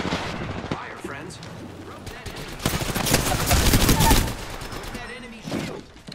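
Video game gunfire crackles in rapid volleys, loud and dense for a few seconds then tapering off, with player voices talking over the shooting.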